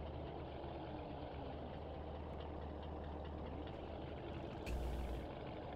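A truck engine idles with a constant deep rumble in the Spin Tires video game, and a short hiss of air releases near the end.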